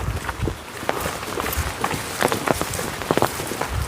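Rain falls outdoors, spattering onto surfaces in scattered, uneven drops and taps. It is moderately loud and close, with no talk over it.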